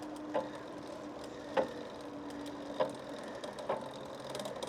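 Bicycle rear derailleur shifting up into 7th gear on a bike being adjusted, giving a few sharp ratcheting clicks spaced roughly a second apart over a low steady hum.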